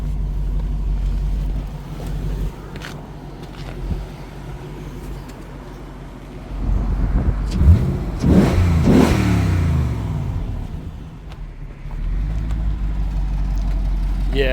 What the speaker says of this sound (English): get you guys a little exhaust sound here